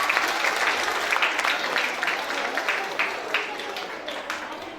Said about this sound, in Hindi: प्यारी सी तालियां होनी चाहिए।